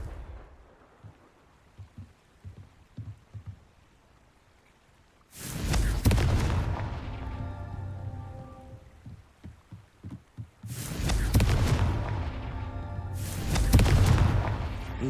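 Three loud fiery explosions from the Confringo spell in Hogwarts Legacy burst out one after another, each a heavy roaring blast that rumbles away, following a quiet stretch of soft thuds.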